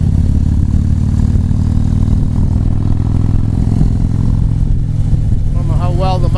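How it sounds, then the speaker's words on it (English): A motorcycle engine rumbles steadily with a deep, throaty exhaust note, loud and close throughout, and a voice briefly speaks near the end. "New bike's got a nice deep throaty exhaust on it."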